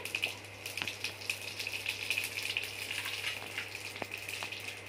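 Cumin seeds sizzle steadily in hot mustard oil, with crackles and small pops spread throughout and no talking.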